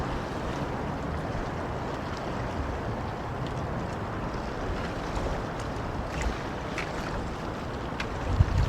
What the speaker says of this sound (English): The wind's really too strong.